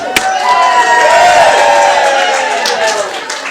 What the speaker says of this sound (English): So give your bride and groom a big round of applause.